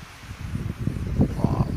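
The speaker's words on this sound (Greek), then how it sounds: "αυτό αν το ακούτε είναι ο αέρας, παιδιά, έχουμε τρομερό αέρα" Gusty wind buffets the microphone in low rumbling bursts at a camp, with a faint voice in the background.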